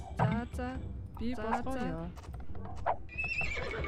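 Horses neigh and whinny repeatedly in the Age of Empires 2 video game, loud and overlapping, with hoof clip-clop beneath and someone talking over the game sounds.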